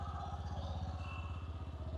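A Bajaj Pulsar 125 or Hero Glamour X 125 motorcycle engine idles steadily with a rhythmic, chugging low pulse, close by and fairly quiet, with no voices.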